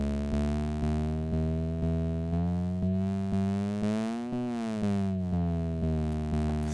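Repeating synth tones from an Elektron Model:Samples with changing sample length: a steady series of pitched tonal hits pulsing evenly about every half second, each note cut off at a varying point, loud and clear with no talk.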